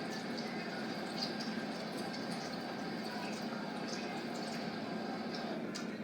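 A steady, even rush of tap water runs while a kitchen sifter is rinsed, a constant close hiss with faint drips and no talking.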